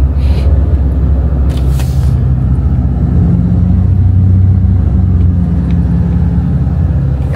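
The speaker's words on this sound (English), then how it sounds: "The overpass up there is filled with traffic, standstill traffic." Standstill highway traffic in Georgia, heavy low rumbling of idling vehicles with steady engine drone and a couple of brief hissing bursts like air brakes, loud and close, no talk.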